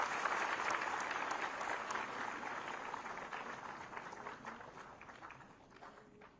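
An audience at a ceremony honouring teachers claps in sustained, dense applause that gradually fades over several seconds.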